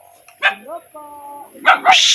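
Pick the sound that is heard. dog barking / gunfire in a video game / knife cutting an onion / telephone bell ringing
dog barking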